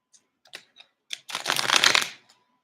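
Spirit Song tarot cards get a few light taps and flicks, then a brief riffling burst as the deck is shuffled, close and fairly soft.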